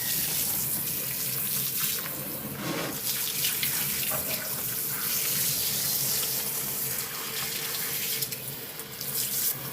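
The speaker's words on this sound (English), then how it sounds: "I'm gonna wash these sponges." A kitchen faucet runs steadily while sponges are washed in the sink, a continuous loud close splashing rush with small shifts as the stream hits and moves, and no speech.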